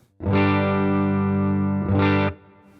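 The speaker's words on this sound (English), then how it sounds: "It's the Princeton model in the HX Stomp XL through the Princeton speaker. Super clean. Here's what it sounds like." Clean electric guitar played through a Princeton amp model on an HX Stomp XL into a Princeton speaker: a sustained chord rings out loud for about a second and a half, then a second strum follows briefly before fading.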